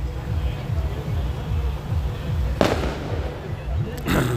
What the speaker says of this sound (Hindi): फायर वर्क यहाँ पे हो रहा है जी।